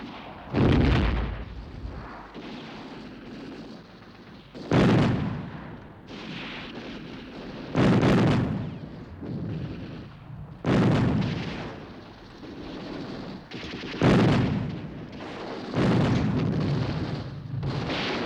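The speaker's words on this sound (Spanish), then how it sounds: "Son horas y horas de fuego cerrado de fusil y ametralladora" Battlefield barrage of rifle and machine gun fire with artillery during the defence of Madrid in the Spanish Civil War, a series of heavy booming blasts every few seconds over a constant rumbling din.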